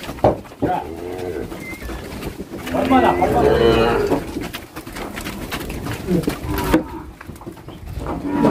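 Nelore cattle in a pen during vaccination and counting give a long, deep moo close by, with lowing and shuffling of the herd around it and people talking in the background.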